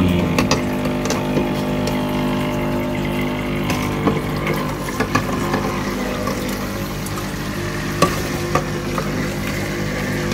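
A small aquarium water pump hums steadily as it is primed with water. The drone is constant and close, with scattered light clicks and trickles and no voices.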